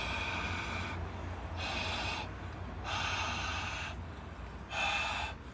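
Ujjayi breathing, a slow throaty rushing breath like fogging up a mirror, repeats in four long hissing strokes at an even rhythm over a low steady hum, close and breathy with no talking.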